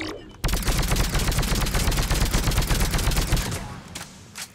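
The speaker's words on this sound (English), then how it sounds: "Still excellent grouping, very accurate, considering it's a full auto sniper rifle." Indra full-auto sniper rifle from the video game Mass Effect 3 firing one long unbroken burst of rapid loud shots, lasting about four seconds before stopping.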